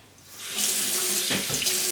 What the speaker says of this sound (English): I'm going to put it back in the sink, and then I'm going to rinse it out.